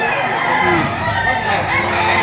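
Roosters crow amid a busy crowd of chickens at a poultry sale, with overlapping calls and clucks in a dense, loud din and voices mixed in.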